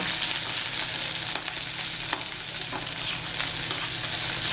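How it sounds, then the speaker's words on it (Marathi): Green chilies sauté in a pan for a prawn masala, producing a continuous, moderately quiet sizzle with a few sharper crackles and pops, heard close up with no talking. "मिरच्याही थोड्याशा दोन मिनिटं परतून घ्यायच्या"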